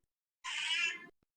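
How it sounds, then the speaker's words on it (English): A house cat named Silky gives a single short, clear meow close by, rising and falling for about half a second, alone in otherwise quiet surroundings. "And that's my cat."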